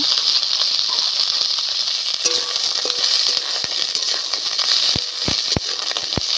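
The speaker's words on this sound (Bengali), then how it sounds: "এবার ফুলকপিগুলো আমি একটু ভেজে নেব।" Cauliflower pieces frying in plain oil without salt or turmeric, a steady bright sizzle and crackle that runs the whole time, with a few sharp pops near the end.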